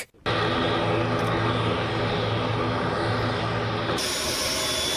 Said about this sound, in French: l'avion transportant le président du Faso, le capitaine Ibrahim Traoré,